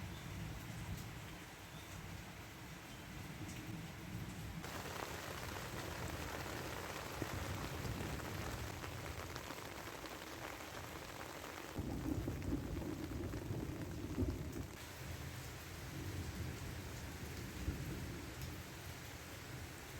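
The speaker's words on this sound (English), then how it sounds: "let's go out and enjoy some rain" Steady rain falls outdoors in a rural setting, a soft continuous hiss with low rumbling thunder rolling underneath that swells and fades over time, fairly faint and with no voices.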